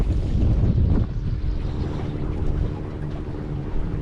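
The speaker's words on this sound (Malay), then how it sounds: "So angin agak kuat jugalah." Strong wind buffets the microphone on a fishing raft out on the water, a steady loud roar with gusts and no talking.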